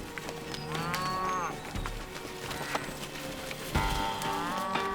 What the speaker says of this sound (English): Cattle are herded down from the mountain meadows to return to the barns for the winter.